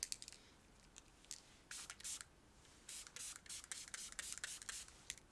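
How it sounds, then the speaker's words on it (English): A bottle of sunscreen setting mist spray is shaken in quick, bright rattling bursts, several separate clusters of sharp clicks and sloshes close by, with no talking. "Let me give it a shake."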